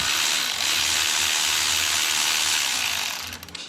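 A ratchet works on bolts of a Ford F150 transmission during shift solenoid repair, giving a steady, close mechanical whirring and clicking that tapers into a few sharp clicks at the end.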